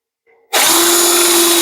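A drill driving a 1-inch Forstner bit into wood: a short faint whir, then a loud steady high-pitched spinning and cutting roar that continues to the end.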